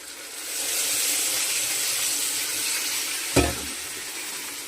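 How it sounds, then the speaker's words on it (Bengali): Water is poured into a pan of cooking curry with spices and oil, producing a continuous loud sizzle and hiss with steam, broken by one short clunk partway through. "এবার আমি জল দিয়ে দিচ্ছি, অল্প পরিমাণে জল দেবো"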